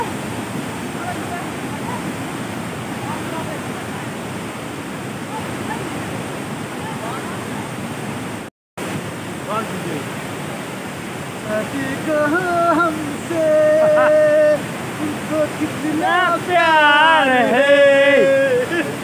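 Neya Falls pours as a steady, broad roar of rushing water throughout, close and loud, with a brief cut midway and people talking and calling out over the torrent in the later part.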